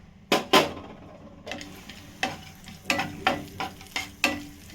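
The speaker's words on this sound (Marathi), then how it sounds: "त्याच्यात आपण ड्रायफ्रुट्स ना थोडे शॅलो फ्राय करून घेऊया टाकले ड्रायफ्रुट्स" Dry fruits shallow-fry in hot ghee in a pan, a soft sizzle broken by a series of sharp spoon taps and clinks against the metal, close and fairly quiet.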